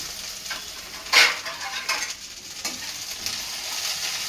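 A handful of coriander leaves fries with peeled roasted peanuts in a pan, giving a soft sizzle broken by a few sharp scrapes and clinks of a utensil stirring against the metal.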